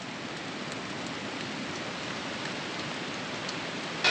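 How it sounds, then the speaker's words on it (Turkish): Hail pours down steadily in the Himalayas, a dense, even hiss of countless small impacts that holds at one level throughout, with no voices. "Bu arada baya baya dolu yağmaya başladı."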